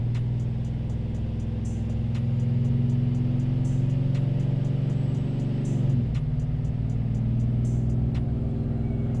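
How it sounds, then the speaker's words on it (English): A Procharged 6.2L GMC Denali truck with a cammed engine runs on a dyno, a loud, steady mid-pitched engine drone that holds an even note, with faint rhythmic ticking above and a brief dip near the end. "So I'm just driving the truck right now"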